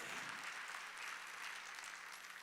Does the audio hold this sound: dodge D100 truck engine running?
no